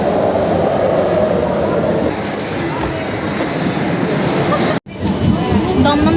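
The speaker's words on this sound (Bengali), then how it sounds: "আস্তে আস্তে আমাদের মেট্রো ঢুকে যাওয়াতে আমরা মেট্রোতে উঠে পড়েছি" A metro train pulls into the Dum Dum platform with a loud, close rumble of wheels, a rising squeal and rolling clatter, while voices are heard over the noise.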